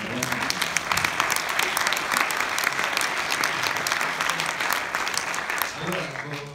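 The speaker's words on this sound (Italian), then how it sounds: "Applausi per il gioco." Audience at a film presentation in Lausanne gives sustained, dense applause, loud and even for several seconds before easing off at the end, with possible voices mixed in.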